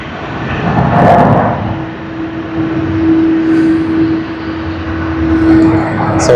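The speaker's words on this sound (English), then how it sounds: "OZ602, Asiana Airlines, Boeing 777-200E." An Asiana Airlines Boeing 777-200ER at Sydney Airport passes as a loud, broad jet roar with a sustained engine tone, swelling and easing over several seconds. A voice is faintly present under the noise.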